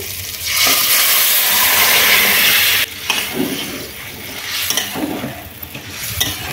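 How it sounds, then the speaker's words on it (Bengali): Boiled papaya and potato are mashed and stirred into fried ginger, cumin and coriander paste in a pan. A loud steady sizzling hiss runs for about three seconds, then gives way to closer scraping and squelching stirring strokes. "এবারে সেদ্ধ করে রাখা পেঁপে এবং আলু ছেঁচে দেব"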